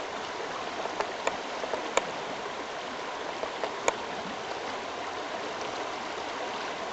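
Water from a drainage ditch runs off a mountainside into Bear River, making a steady, close rushing flow with occasional small splashes and drips over the constant wash.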